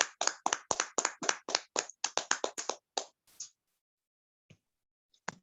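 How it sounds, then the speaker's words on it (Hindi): A church congregation claps hands to welcome a speaker: a burst of lively, near applause lasts about three seconds, then fades into a few scattered late claps. "के लिए ताली बजाकर स्वागत करते हैं।"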